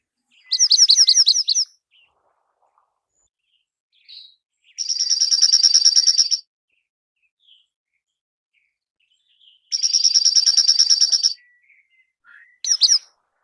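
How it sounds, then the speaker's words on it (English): Junco song: three long, clear musical trills repeated at intervals, with a brief fragment at the end, loud and close against a quiet background. "Love the Juncos. And listen to that song"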